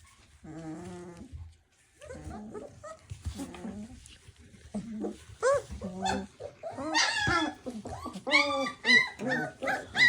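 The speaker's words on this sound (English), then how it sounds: "It's round one of the puppy fights." Puppies fighting and playing, with close yips, growls, whimpers and barks coming in rapid bursts that grow louder and busier toward the end.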